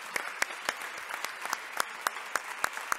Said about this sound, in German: Einen tosenden Applaus.